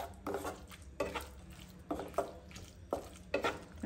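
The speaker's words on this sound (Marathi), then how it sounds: "दही चांगल्या प्रकारे आता इथे मिक्स झालेलं आहे" A spoon working through a yogurt and capsicum mixture in a pan, with a few regular scraping, clinking strokes about once a second, close by.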